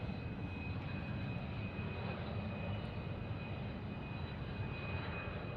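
An Army Lakota helicopter flies at Tucson airport, a steady, broad engine and rotor roar that stays constant and fairly loud throughout, with no talk over it.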